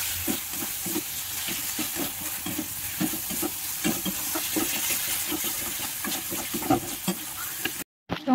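Tomatoes frying in spiced oil for an Odia moong dal with drumstick, a steady close sizzle and hiss broken by repeated scraping stirs of the spoon through the pan, with no talk, cutting out briefly near the end.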